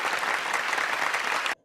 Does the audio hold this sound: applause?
yes